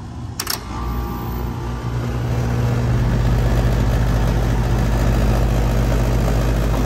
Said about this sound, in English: Compressor's running.